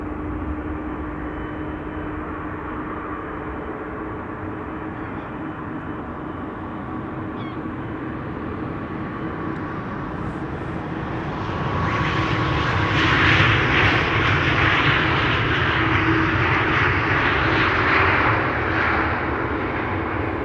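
An Airbus A319 jet operated by GE-UPS, 24 years old, landing at Amsterdam Schiphol; a steady distant engine rumble swells into a louder broadband roar about halfway through as the aircraft draws nearer.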